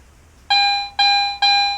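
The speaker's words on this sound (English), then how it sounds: "It's going to give a ding like a bell tone." A Garrett AT Pro metal detector sounds three clear, ringing bell-like dings in steady succession as it sweeps over a buried button, each tone bright and sustained, with no talking.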